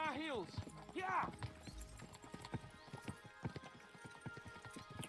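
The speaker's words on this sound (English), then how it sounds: "We should spur the horses on." Horse hooves pounding in Kingdom Come: Deliverance II, a rapid galloping clip-clop with a whinny near the start, under brief speech from game characters.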